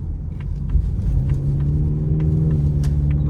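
A 2025 Ford Mustang EcoBoost accelerating through a turn, a steady loud engine rumble with rising tone heard from inside the car, continuous with no speech.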